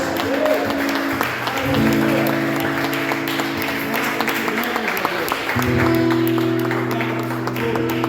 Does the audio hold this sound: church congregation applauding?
yes